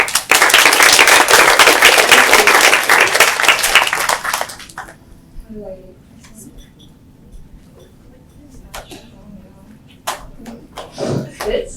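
An audience applauds to welcome a speaker at a tech talk, dense steady clapping filling the room for several seconds before fading, followed by quieter room noise, a few handling thumps and a voice.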